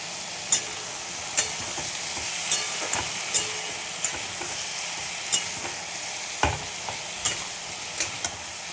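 Spices with turmeric, asafoetida, green chili and salt sizzle steadily in a hot pan, while a spoon scrapes and stirs in regular knocks about once a second, with no talking.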